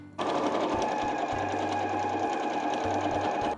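Close sewing machine stitching fabric scraps layered with batting, a steady mechanical whirr with its motor pulsing in short bursts of running and slowing.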